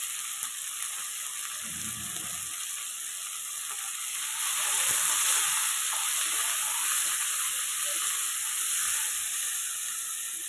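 Ginger garlic paste with salt and turmeric frying in a pan, giving a steady, bright sizzle that swells slightly midway, with a brief low clatter early on and no voices.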